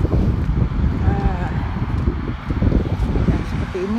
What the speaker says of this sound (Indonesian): Anginnya kenceng banget